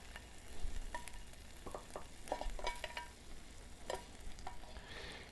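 A choice-cut prime rib of beef sizzles quietly in a hot pan, a faint steady frying hiss broken by soft crackles and pops, with no talking.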